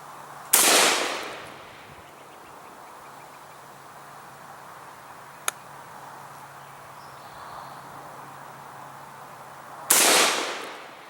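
Two loud, sharp gunshots from an IWI Tavor bullpup rifle ring out on an outdoor range about nine seconds apart, each cracking close by and trailing off in a brief echo, separated by a quiet stretch with a faint tick.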